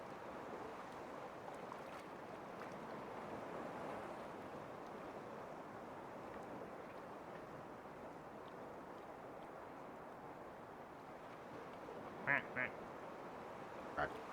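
A human voice imitates a duck quacking, a few short quacks near the end over a low, continuous background murmur.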